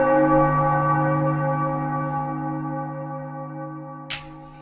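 A church bell in the Enigmatis video game rings with one long, sustained, humming tone that slowly fades over several seconds, alone without voices, with a brief faint click near the end.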